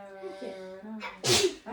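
A single loud, close sneeze bursts out near the end, preceded by a few words of speech and followed by more talk.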